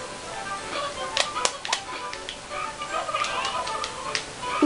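Cartoon chickens from a Looney Tunes video game cluck and squawk in a busy burst of short, sharp calls over a steady game backdrop, moderately loud and close.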